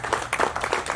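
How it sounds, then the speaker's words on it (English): A brief burst of clapping from a small audience at a presidential candidacy announcement, several quick uneven claps close by. "let's give Jeff a round of applause"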